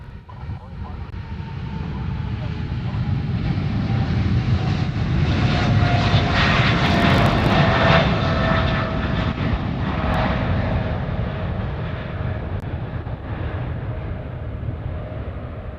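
A fixed-wing airliner takes off at Honolulu airport, its jet engine roar swelling over several seconds into a loud, sustained rumble and then easing slightly, with air traffic control radio chatter and nearby talk running underneath.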